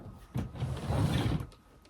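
A drawer in a baby's clothes chest slides open with a single sustained scraping rumble lasting about a second, close by and moderately loud, with no voices.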